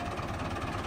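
A Massey Ferguson 385 tractor engine idles steadily at low revs, around 600 rpm, with a low, even rumble and slight knocking vibration, close and continuous through the brief moment.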